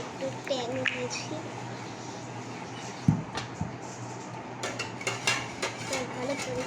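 A spoon clinks and scrapes against a glass while sugar and Tang powder are stirred into a sweet drink, the sharp taps scattered and quiet under a voice and kitchen chatter.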